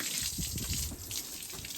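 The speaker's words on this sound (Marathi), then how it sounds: "त्या दोन्ही गायला आता पाणी मारून घेतलेलं आहे" Water hosed onto two cows as they are washed in a cattle shed, a steady close spray with splashing and dripping, no voices.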